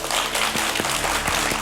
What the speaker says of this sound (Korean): 큰 박수 맞이해주시기 바랍니다